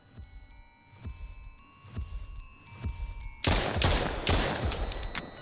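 Sharp, loud gunshot bursts from the horror video game Silly Billy come in a rapid cluster partway through, following a series of dull, rhythmic thuds like a heartbeat.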